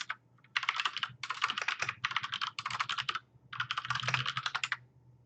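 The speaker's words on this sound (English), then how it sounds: "Hopefully my typing isn't too loud." Rapid typing on a computer keyboard during a live music reaction stream, with dense bursts of clattering keystrokes separated by brief pauses, close and fairly loud over a low steady hum.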